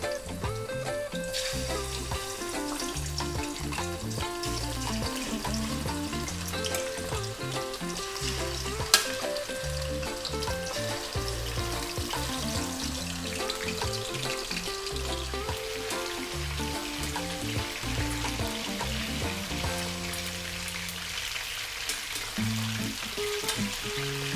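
Chicken pieces frying in hot oil for Filipino chicken curry, a steady, dense sizzle throughout with occasional stirring and clinks, loud and close, with no speech.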